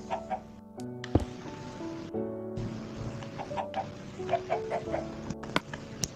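Minecraft chickens cluck in scattered short calls near a coop, mixed with soft game ticks and clicks over a gentle, steady musical background.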